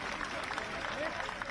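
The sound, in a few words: applause welcoming the Prime Minister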